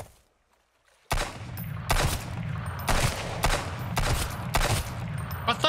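After a second of near silence, a fast volley of gunshots from Sunkenland bursts out and keeps going, with sharp cracks repeating about once a second over continuous rattling fire.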